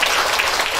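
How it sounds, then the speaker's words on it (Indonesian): Dense, steady applause filling the whole moment, a congregation at a church service clapping continuously without pause. "tepuk tangan buat kemuliaan Tuhan"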